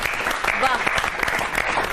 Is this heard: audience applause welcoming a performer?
yes